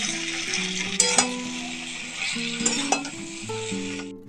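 Spices seasoned with salt and a little sugar sizzle in a pan for a mixed vegetable and paneer dish while being stirred, giving a steady close hiss with a few sharp metallic scrapes and clinks, over a faint background tune.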